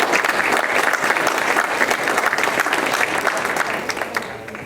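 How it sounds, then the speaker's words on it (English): Applause for the mayor fills the hall at a community awards ceremony in Hamtramck, a loud, continuous round of crowd clapping with crisp individual claps, easing slightly toward the end. "Let's give our mayor a round of applause."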